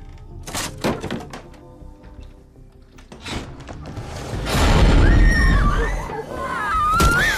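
In a zombie film, a woman tries to break through a door barricade: a run of sharp thuds and cracks, then a louder stretch of heavy banging and scraping, with a voice crying out over it.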